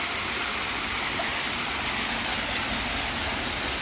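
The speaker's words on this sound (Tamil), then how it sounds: "ஒரு ஃபால்ஸ் மாதிரி சின்னதாக அருவியாட்டம் வந்துட்டு இருந்தது" A small waterfall spills beside hairpin bend 3 on the Yercaud ghat road, giving a steady, dense rush of falling water that holds unchanged throughout.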